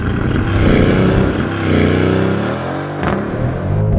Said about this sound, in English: this is why we love AMG's violent launch control